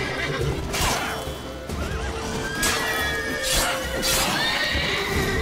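Several loud horse whinnies ring out close by in The Witcher 3 video game, rising and falling over a rumbling, busy background with thuds.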